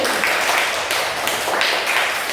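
A classroom of students in an Islamic religious education class applauds a presenting group, a thick, continuous wash of clapping from many hands, close and even throughout.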